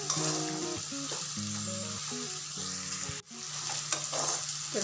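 A tempering for lemon rice (chitranna) being stirred and fried in a pan, a steady sizzle with scraping stirs, loud and close, with a brief dropout just past three seconds and a faint tonal hum running beneath.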